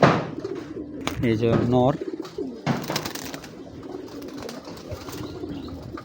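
A pair of Bezi pigeons, a male and a female, coo in low, throaty murmurs nearby while someone speaks briefly over them, followed by quieter handling noise.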